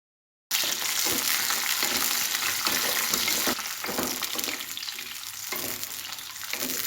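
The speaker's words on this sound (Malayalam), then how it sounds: "എണ്ണ നല്ലതുപോലെ ചൂടാകുമ്പം നമുക്ക് ഈ പച്ചമുളക് അതിലിട്ട് വറുത്തെടുക്കണം." Green chillies frying in hot coconut oil give a loud, continuous close sizzle and spatter, starting abruptly after a brief silence and easing slightly in intensity halfway through.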